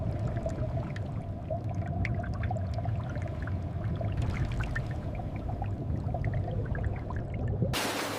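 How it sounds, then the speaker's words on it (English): Water jets wash tamarind pods in a factory line, a continuous rushing, gurgling spray over a low machinery rumble, with a brief brighter hiss near the end. "gentle water jets cleanse each pod thoroughly"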